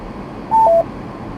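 Two short, loud electronic tones from a car phone's keypad dialing, one right after the other, over a steady low hum of the vehicle's interior while driving through Melbourne suburbs.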